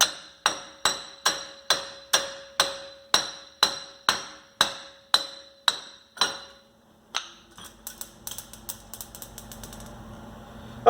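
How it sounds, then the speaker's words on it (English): A hammer strikes a Jeep TJ Wrangler wheel hub to loosen it, a dozen loud, evenly spaced metallic clangs ringing close, then a rapid flurry of lighter, faster taps. "all we need is our hammer, and we will probably use a chisel once we get kind of close"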